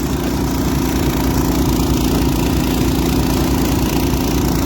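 A Predator engine swapped onto a snowblower runs revved up to about 3,600 RPM, giving a loud, steady, close engine drone with no breaks and no voices.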